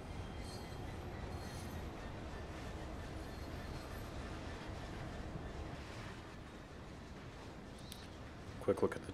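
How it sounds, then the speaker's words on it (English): A freight train in Train Sim World on the Great Western Express route runs steadily as a low, faint rolling rumble with occasional wheel squeals, and a couple of brief clanks come near the end. "Quick look at the train, kind of snaking around right there."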